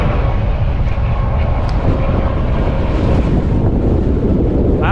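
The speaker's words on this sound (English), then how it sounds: "It's a little windy." Strong wind beside a flatbed straight truck pulled over on the Kansas turnpike, a loud continuous low rumble and buffeting roar on the microphone with no pauses.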